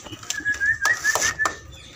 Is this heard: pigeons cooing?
yes